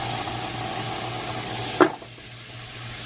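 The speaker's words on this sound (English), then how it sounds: "Doesn't that sizzle sound so good?" Frying in a pan while cooking bean and ham soup, a steady close sizzle running underneath, then a brief clatter and a drop to a quieter simmer near the end.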